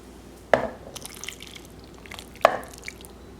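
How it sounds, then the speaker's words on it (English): Broth thickened with browned flour being added to a pot roast, two distinct wet splashes about two seconds apart, close and clear, with faint liquid sounds between. "now I'm going to add it to the pot roast."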